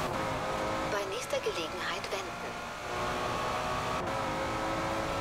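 An Aston Martin Vantage engine in the racing game Forza Horizon 4 holds a steady hum with a brief rev and shifting tones near the start, while someone talks over it.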